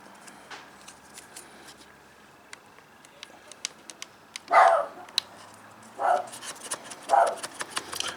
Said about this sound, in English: My dog barking at the workers next door.